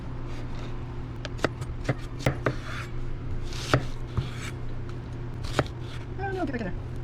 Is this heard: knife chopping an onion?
yes